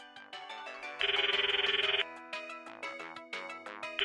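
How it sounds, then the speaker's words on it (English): Cell phone ringtone in the Steins;Gate visual novel, a bright electronic melody of quick repeating tones with a sustained buzzing middle section, loud and close with no talk. "Sounds like Meishi's cell phone. A ringtone."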